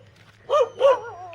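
A dog gives two short barks close by, with a steady low hum beneath and a faint tonal trail after the second bark.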